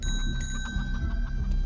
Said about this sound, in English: Why did some bells go off?